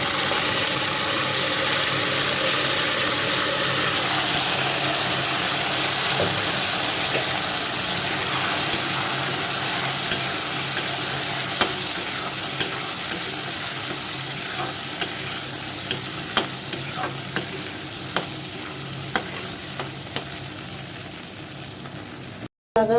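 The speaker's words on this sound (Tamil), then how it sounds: "இப்போ வந்து நம்ம பொங்கலை வந்து சேர்த்து ஒரு அஞ்சு நிமிஷம் ஸ்லோலேயே வந்து நல்லா வதக்கிக்கணும்" Varagu rice pongal sautéing in a pan with curry leaves, pepper and cumin, a steady loud sizzle running throughout while a ladle scrapes and taps the pan in sparse clicks, growing more frequent toward the end.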